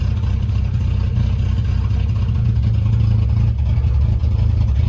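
An old station wagon's engine idling at about 1,000 RPM, a steady low rumble holding even and continuous throughout, with no talking.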